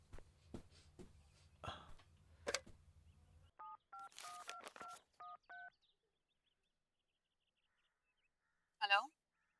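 Someone dials a phone number, producing a run of about eight short touch-tone beeps in an uneven rhythm, after a few clicks and rustles. A brief voice follows after a pause.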